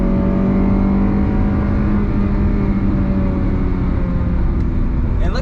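A truck accelerates in third gear, the engine a loud, even, close hum that climbs gradually in pitch.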